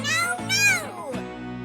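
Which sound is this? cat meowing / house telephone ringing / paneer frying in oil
cat meowing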